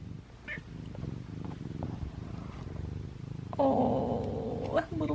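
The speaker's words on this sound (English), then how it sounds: "Can you hear those purrs?" A soft, continuous cat purr close by, with a voice talking over it.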